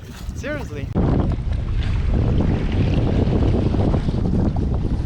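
Strong wind on open water roars and buffets loudly across the microphone on a fishing kayak, a steady rushing gust after a brief quieter moment at the start.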